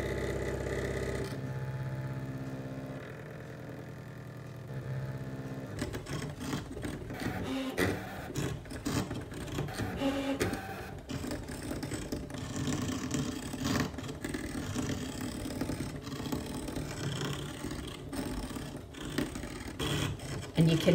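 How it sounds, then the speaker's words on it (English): A Brother ScanNCut SDX2200D cutting machine whirs steadily while its blade drags through heavy weave fabric, a continuous faint mechanical buzz with small scraping ticks, fairly quiet throughout. "you can hear the blade going through the fabric. As I say, it is a, quite a heavy weave fabric"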